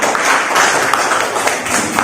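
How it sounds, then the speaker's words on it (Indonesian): A classroom of students applauds the kinesthetic group during an economics lesson on demand elasticity, giving brief, dense, close clapping from many hands. "Kasih tepuk tangan untuk kelompok kinestetik"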